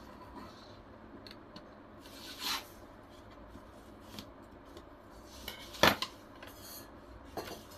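Scissors snipping blouse fabric for a size 38 boat-neck blouse, a few quiet isolated cuts with one sharper, louder snip near the end against a faint room hush.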